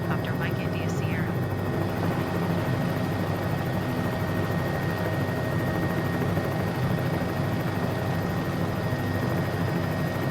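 A helicopter drones continuously close by in flight around Key West, Florida, a loud steady rotor and engine roar filling the whole stretch with no breaks.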